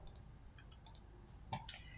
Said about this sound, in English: I will be typing here IP rings, correct?